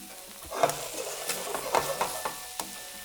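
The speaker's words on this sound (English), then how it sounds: "So you just every now and then stir it" Spoon scrapes and stirs aubergine bhaji in a pan with a soft sizzle underneath, in a few irregular strokes spread across the moment, close and moderately loud.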